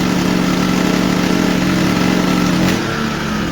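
A Black+Decker BXGNI900E four-stroke petrol inverter generator runs steadily up close with a loud, even engine drone, and its pitch drops slightly near the end.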